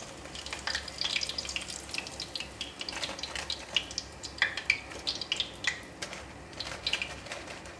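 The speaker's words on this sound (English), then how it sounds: "Repeat the dip and fry method for the rest of the oyster mushroom." Battered oyster mushrooms crackle in hot deep-frying oil. Irregular pops and spits scatter over a steady bubbling bed at moderate loudness, with no voices.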